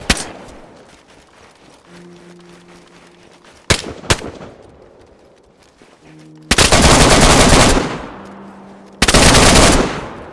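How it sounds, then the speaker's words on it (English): Gunfire at zombies in DayZ: a few sharp isolated shots early, then two long, loud bursts of rapid automatic fire, with faint tonal game sounds in the quieter gaps. "let me just shoot these zombies in."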